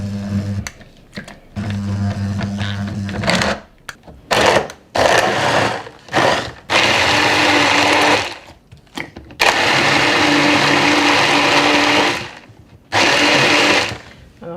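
A kitchen blender whirs through dates and milk for juice in loud bursts of a few seconds each, stopping and restarting several times with short quiet gaps between runs.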